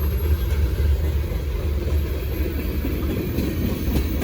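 A Norfolk Southern freight train rolls past close by in Gaffney, South Carolina, with a steady low rumble and clattering wheels on rail throughout and no voices.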